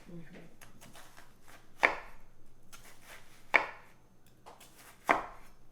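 Knife slicing mushrooms and onions on a cutting board, three sharp chops spaced about a second and a half apart with faint scraping between, close and clear without talk.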